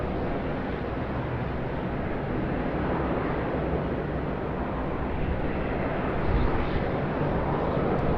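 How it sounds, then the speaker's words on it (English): Jetstar Airbus A320 in Pride livery departing Sydney Airport, a dense, continuous broadband jet roar holding steady at close range and swelling slightly near the end, with no voices. "Next up to leave is the Pride livery on the Jetstar Airbus A320"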